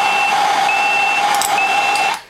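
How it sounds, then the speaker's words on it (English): Alarm on a REX-C100 temperature controller beeping steadily after overshooting its high setpoint, a continuous, loud, near electronic tone with a higher harmonic, running without talk until it cuts off at the end. "Now, to get tired of the annoying alarm, we have an alarm silence lever here."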